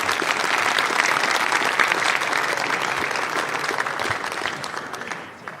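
Sustained applause from a seated audience at a candidates forum, dense steady clapping that holds for several seconds and then tapers slightly at the end.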